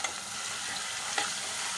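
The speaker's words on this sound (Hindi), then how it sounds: "ये देखिए, इसकी चुनबुन ख़त्म हो रही है हमारे अदरक लहसुन की" Ginger garlic paste fries and sizzles in a pan, a steady close hiss with light stirring scrapes and no voices.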